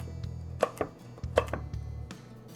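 A knife chops a carrot on a cutting board in a few sharp, close knocks spaced irregularly, with a faint hum underneath and no speech.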